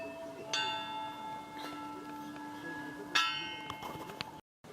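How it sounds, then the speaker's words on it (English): A bell at a temporary new church in rural Burma rings out twice, each stroke leaving bright, slowly fading overtones over steady outdoor background noise. "and the bell."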